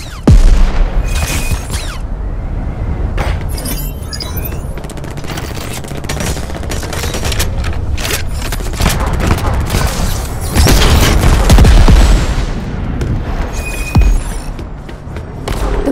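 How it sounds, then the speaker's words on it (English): Gunfire and explosions fill a battle in the video game Crackdown 3: rapid shots, booming blasts and thuds pile up densely, with voices calling out over the fighting. "Fire at will! Fire at everybody!"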